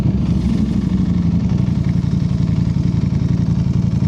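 A motorcycle engine idles close by with a steady, loud, even chugging pulse and light mechanical clatter that holds unchanged throughout, with no talking.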